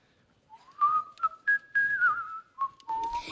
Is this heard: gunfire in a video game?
no